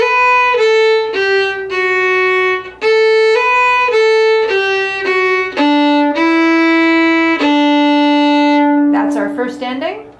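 A bowed string instrument plays a lesson melody from Nail That Catfish, a run of steady sustained notes finishing with a long held E followed by a long low D, close and clear with no talking.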